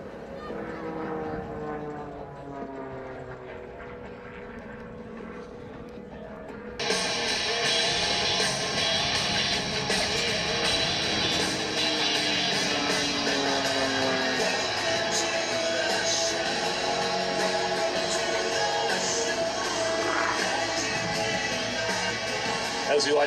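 A Skybolt aerobatic biplane roars through split-S and reversal manoeuvres at an airshow, its engine drone steady and loud, swelling as it comes back toward the crowd, with a commentator talking over it throughout.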